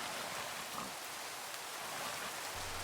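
Rain in the TerraFirmaGreg video game, a steady, even hiss of falling rain with no breaks, moderately quiet.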